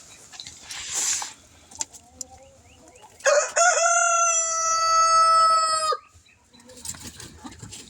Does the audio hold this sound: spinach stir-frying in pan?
no